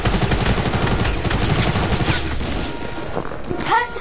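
Tactical SMG fire in Fortnite rattles in fast, loud automatic bursts for about two and a half seconds, then thins out as game sounds and a voice take over near the end.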